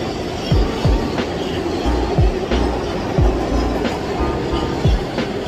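A New York subway train rumbles along with a steady roar and regular clickety-clack wheel thumps passing over rail joints, loud and close from inside the car.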